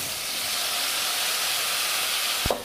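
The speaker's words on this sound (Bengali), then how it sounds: "লঙ্কা ফোড়ন দিয়েছি রসুন ফোড়ন, আর দিয়েছি কালো জিরে ফোড়ন, দিয়েছি পাতা বাটা।" Leaf paste sizzling in hot oil over a tempering of chili, garlic and nigella seeds, a steady loud frying hiss close by, ending with a short knock, with no talk.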